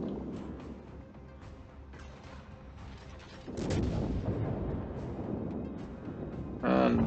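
Warship main guns firing armor-piercing shells in World of Warships, heard as low rolling rumbles followed by a heavier booming salvo midway, with sustained deep roar and a brighter mechanical burst near the end.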